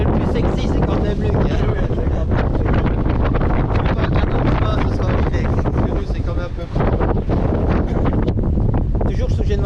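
A wind of around twenty knots rushes past an Elan 444 sailboat under jib alone off Croatia, a loud, unbroken roar of gusts and buffeting that fills the whole stretch.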